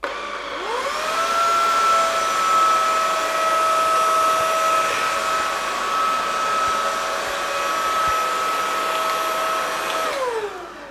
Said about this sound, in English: you can actually vacuum and mop at the same time